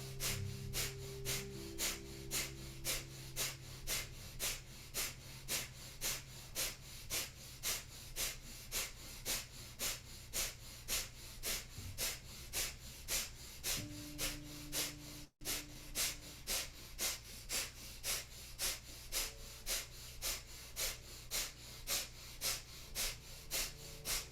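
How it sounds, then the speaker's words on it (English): During a Kundalini yoga kriya, someone does breath of fire: rapid, rhythmic, forceful nasal breaths that pulse steadily and evenly for about twenty-four seconds. The breathing is close and there is no talk. "So last 30 seconds, powerful breath of fire."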